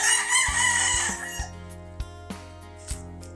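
Hens cluck nearby in short, repeated calls, while a rooster crows loudly at the start.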